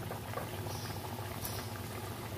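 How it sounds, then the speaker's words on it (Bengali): Potatoes simmer with spices in a pot, giving a steady, close bubbling boil of soft pops and liquid patter throughout, with no voices. "আলুগুলো এর মধ্যে দিয়ে দিয়েছি ওটা সেদ্ধ হওয়ার জন্য"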